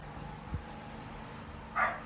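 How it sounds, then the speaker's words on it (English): A tiny neighbor's dog out in the yard lets out one short, high-pitched yap near the end, somewhat distant but clear over a quiet indoor hum, after a soft thump earlier on. "Oh, there's a dog in the yard."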